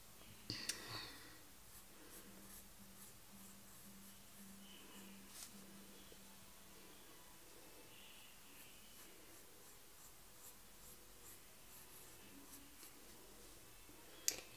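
Pencil scratching and scribbling on paper while drawing a cartoon dinosaur's eye, a quiet close scratchy texture with a few sharper taps and clicks near the start and at the end, and a faint low hum beneath.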